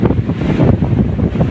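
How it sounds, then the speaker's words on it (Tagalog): Strong wind batters the microphone on a beach in Bagasbas, Daet, Camarines Norte, during rough seas. The gusts are loud, low and blustery, with surf rumbling underneath and no voices. "Ayan, mahangin."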